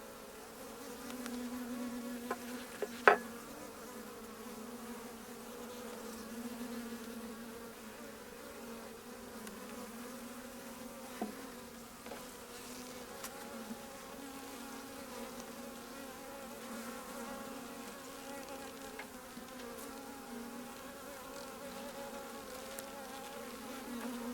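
Honey bees buzzing around an open hive during an inspection, a soft continuous drone of many wings with a few closer passes and light handling knocks, no talking.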